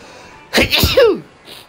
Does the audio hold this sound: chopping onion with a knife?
no